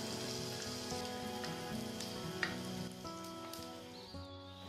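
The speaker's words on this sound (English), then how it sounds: "I'm frying the onions till the rawness is removed" Chopped onions fry in a pan with curry leaves. They give a soft, steady sizzle that runs throughout beneath louder background music.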